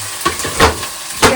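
Vegetables crackling and sizzling as they are tempered in hot oil, a steady close hiss with a few sharper pops and stirring splashes, no voices.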